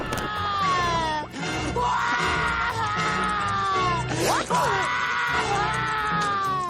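The cartoon character SpongeBob screams and wails in a shrill, strained voice with warbling cries and sobbing breaks, loud and continuous, with brief thumps mixed in.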